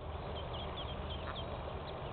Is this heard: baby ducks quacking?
yes